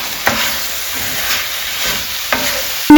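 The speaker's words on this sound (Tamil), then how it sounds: "இந்த 4 மசாலாவும் போட்டு நல்லா கலந்து விட்டுருங்க. கிளறி விட்டு மீடியம் ஃப்ளேம்ல 3ல இருந்து 4 நிமிஷம் விட்டுருங்க." Spice masala and boneless chicken are stirred in a pan over a medium flame for a Mughlai chicken curry, giving a steady sizzling hiss with a few soft scraping strokes and a sharp clink at the end.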